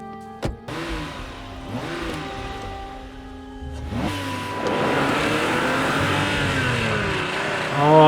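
Porsche and Mustang sports cars racing, engines revving and rising in pitch as they accelerate past, with harmonic whine sweeping up and down and a sharp impact near the start, loud and continuous throughout.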